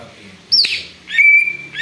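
A green leafbird (cucak ijo), a songbird able to mimic an eagle's call, sings two bright, close whistled bursts, the second a long sustained note, separated by a short quiet gap.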